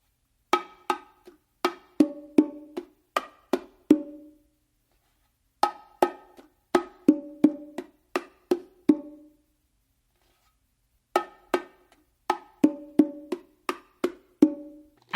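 Bongos played in a steady martillo pattern, crisp strokes cycling through repeated phrases that end on a louder ringing open tone on the hembra, with brief gaps between phrases and no talking.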